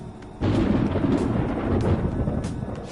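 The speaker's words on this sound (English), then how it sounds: "It sounds like it's going to rain." Thunder rumbles loudly in Persona 5 Royal, a deep rolling boom that swells in suddenly and sustains for several seconds with a hissing rain-like wash.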